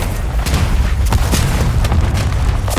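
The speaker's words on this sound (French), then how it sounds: "Je demande des bombes à guidage laser." Laser-guided bomb strikes in Call of Duty zombies mode: a dense, continuous rumbling barrage of booms and blasts, loud and heavy in the low end, with sharper cracks standing out.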